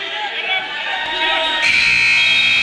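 A loud electronic period-ending buzzer blares over a noisy crowd at a high school wrestling match, sounding steadily in the second half as the crowd's chatter continues underneath.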